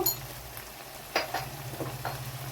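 Chopped liver frying in a pan for a spinach liver fry curry, a soft steady sizzle with a low hum beneath, broken by a few sharp clinks and scrapes of a spatula stirring, close and moderately quiet.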